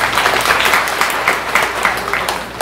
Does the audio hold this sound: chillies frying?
no